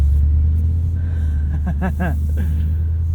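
A 2023 Bentley Continental GTC Azure V8 convertible cruising, a steady low engine rumble and road drone heard from inside the cabin, with a faint voice-like murmur in the middle.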